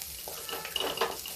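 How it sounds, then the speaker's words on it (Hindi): Chopped onion frying in a pan with a soft sizzle and a few light scraping stirs, close and brief, with no talking. "प्याज भून रहा है"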